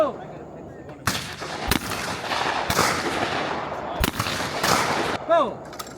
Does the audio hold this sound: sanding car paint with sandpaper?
no